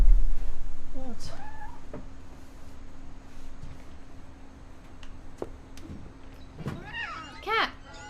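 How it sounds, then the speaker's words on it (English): Cat meows from the video game What Remains of Edith Finch, a few short rising calls near the start and a brighter cluster of mewing near the end, heard over a quiet ambient hum. "Cat!"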